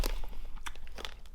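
Crunchy-style jalapeno Cheetos are bitten and chewed nearby, giving a brief, quiet run of irregular dry crunches and crackles.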